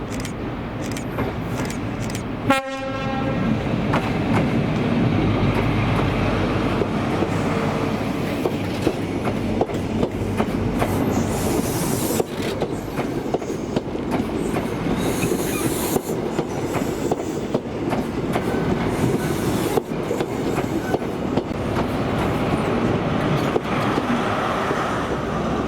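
A ScotRail HST led by class 43 power cars at Perth station, with a steady loud rumble of engines and rolling wagons, a short squealing burst early on, and occasional rhythmic clicks over the rails.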